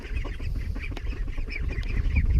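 A flock of ducks let out of their pen in the morning keeps up a steady, close chorus of overlapping quacks over a low outdoor rumble, with no voices.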